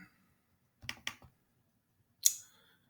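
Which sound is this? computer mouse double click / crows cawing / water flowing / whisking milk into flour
computer mouse double click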